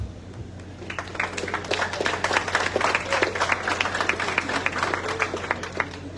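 An audience at a school centenary ceremony claps for a presenter, with applause swelling from a quiet start into a steady, moderate patter over a low background hum.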